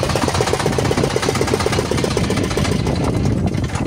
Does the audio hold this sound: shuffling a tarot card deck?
no